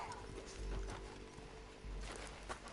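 Horse hooves clip-clop in a steady rhythm as a horse is ridden in a PS4 game, close and moderately loud over a low rumbling game background.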